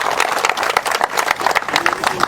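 A room full of people applauds at a gathering, a steady wash of many hands clapping at an even level for the whole stretch, with a faint voice briefly under it near the end.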